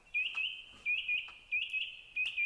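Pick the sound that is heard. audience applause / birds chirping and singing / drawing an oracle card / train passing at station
birds chirping and singing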